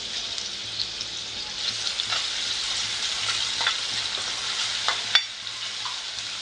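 Tomato and crushed garlic sauté in a pan with a continuous bright sizzle, while a spoon stirs and scrapes now and then in short taps.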